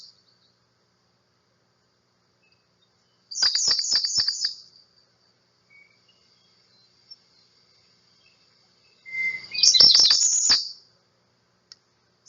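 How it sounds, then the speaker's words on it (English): An American redstart warbler sings two short, bright, high phrases several seconds apart. Each is a quick series of sweet notes ending in an accent, clear against near silence. "He's a red start. Listen to his song and the subtle changes,"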